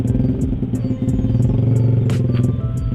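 Motorcycle engine and exhaust on a night ride in Bogor, a steady loud rumble with rhythmic clatter close by, no talk over it.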